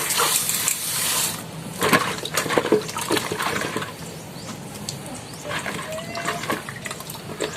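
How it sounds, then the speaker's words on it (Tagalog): Snails are washed in water to rinse off dirt, giving close, irregular splashing and sloshing with bursts of rattling clatter as the shells knock together, louder at first and then softer. "hugasan natin dahil maraming lupa-lupa"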